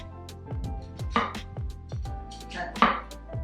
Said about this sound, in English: So we're gonna chop this up